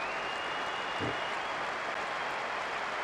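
Stadium crowd roaring in the football video game PES 2012 after a goal, a dense continuous wash of cheering and applause held at steady loudness throughout.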